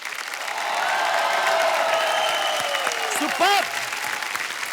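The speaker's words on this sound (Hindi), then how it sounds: "एक बार जोरदार तालियां हमारे मेहमानों के लिए।" Studio audience applause and cheering for guests on a comedy talk show, a steady broad wash of clapping lasting several seconds with voices speaking over it.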